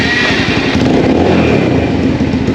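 A 125cc XPro X22 Ninja-style motorcycle engine with a newly upgraded carburetor, running steadily at a loud, close, buzzing idle with a slight rev and rough mechanical clatter throughout.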